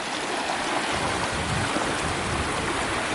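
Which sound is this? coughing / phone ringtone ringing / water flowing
water flowing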